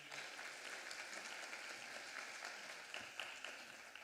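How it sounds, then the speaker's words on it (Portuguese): A church congregation applauding together, a soft, even patter of many hands clapping at a distance, steady throughout with no voices over it. "Vamos aplaudir a palavra de Deus."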